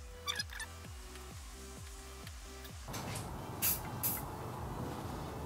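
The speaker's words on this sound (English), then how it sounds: "it also says add some cutting oil, so like some WD-40 or some PB Blaster." Cutting oil such as WD-40 sprays from an aerosol can onto stripped steering wheel threads. After some rhythmic mechanical ticking, a hissing spray starts with two short, sharper bursts, close by and with no voices.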